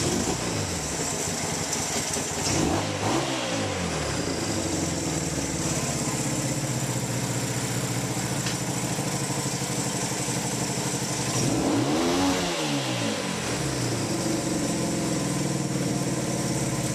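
A Honda CB200 motorcycle engine, freshly reassembled, runs steadily for about seventeen seconds, a loud continuous buzzing drone with throttle blips and revving swells near the start and again around twelve seconds.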